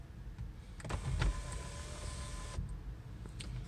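A car's electric power window motor hums steadily for about a second and a half as the window closes, ending with a soft thud, fairly quiet over a faint cabin background.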